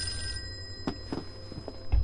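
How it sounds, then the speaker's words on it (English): A telephone rings in the Call of Cthulhu video game: a few faint, separate bell bursts over a low steady background hum, with no talking. "Okay, the damn phone is ringing."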